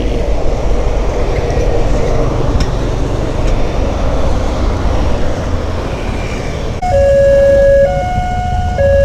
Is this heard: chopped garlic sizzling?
no